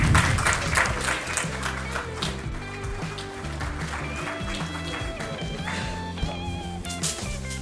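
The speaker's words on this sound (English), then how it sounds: "Can we have a round of applause for him," An audience at a medical awards event applauds an award-winning pediatric cardiac surgeon, sustained clapping spread across a crowd with background music running underneath.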